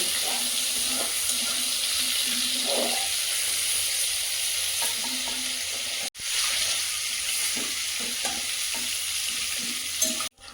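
River prawns frying in oil in a pan, a steady sizzle with occasional stirring scrapes and clicks, close and continuous.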